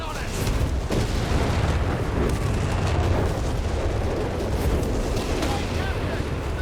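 Artillery bombardment in Company of Heroes 3, including a Bishop 25-pounder carrier, with dense, continuous rumbling booms and crackling blasts layered over one another throughout and a commentator's voice running beneath.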